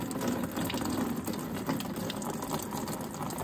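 Engine oil pours steadily into a racecar's oil pan as a faint, continuous, unbroken liquid rush that holds even throughout.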